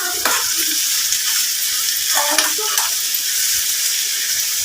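Onions and green chillies frying in oil are turned in the pan, a loud steady sizzle broken by a couple of scraping stirs from a spoon.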